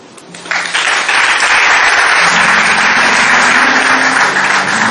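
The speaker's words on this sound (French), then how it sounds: "nous souhaitons que vous le signifiez par acclamation" An audience at an association's general assembly bursts into applause to approve the minutes by acclamation, the loud, dense clapping rising sharply after a brief quieter moment and sustaining to the end.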